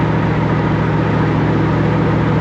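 The 427 engine of a 1965 Shelby Cobra by Superformance, 585 horsepower, cruising in fifth gear at about 55 at low revs, giving a steady, loud, deep droning hum close up with no talk.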